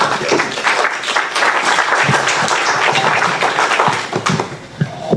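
An audience applauds throughout, a dense, loud wash of many hands clapping that continues without pause and thins slightly toward the end.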